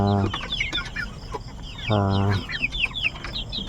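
Fighting rooster (gamecock) clucks in short bursts, with two brief harmonic calls, amid chirping birds and faint background farmyard noise.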